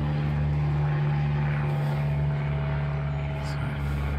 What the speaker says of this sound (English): Got an airplane flying over.